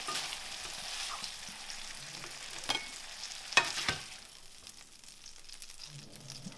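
Burger patties frying in butter in a pan give a steady quiet sizzle, with a few brief scrapes and clinks partway through.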